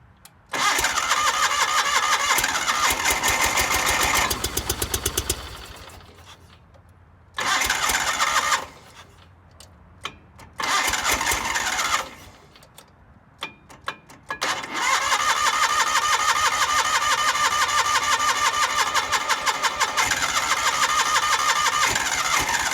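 A 1989 John Deere 318 garden tractor engine cranks and fires, running in loud bursts that cut out twice before catching and running steadily near the end; brief speech appears only faintly.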